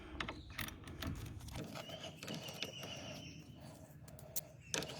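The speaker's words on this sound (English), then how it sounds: "I'm going to start with this 10mm bolt here." A 10mm bolt being undone at the bonnet catch of a Ford Mondeo Mk4, with close metallic ratcheting, clicks and creaks from the tool in irregular bursts and no speech.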